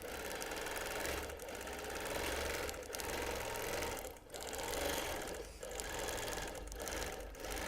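A sewing machine freehand quilting fabric runs in a rapid, steady mechanical chatter, close and loud, with brief dips where it slows between bursts.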